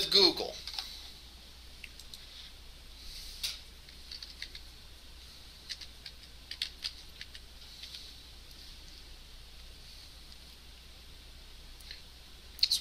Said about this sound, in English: I'm sitting here typing.